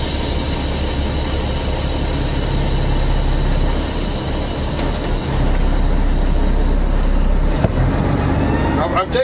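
An American truck with an 18-speed gearbox cruises in fifth gear, its engine a steady, loud low rumble with a brief clunk near the end, while someone talks over it.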